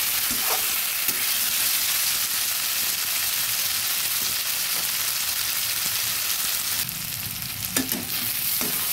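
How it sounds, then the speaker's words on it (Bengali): Spices for mutton curry fry in a pan with a loud, continuous sizzle, while repeated stirring adds scraping and clattering near the end. "বারবার নেড়ে দিচ্ছি।"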